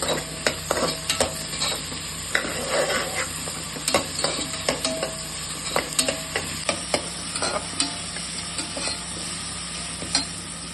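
Homemade ginger garlic paste sizzles loudly in a hot pan for a Madurai mutton kulambu, with steady frying hiss and repeated sharp scrapes and clacks of a spoon stirring throughout, close and without talk.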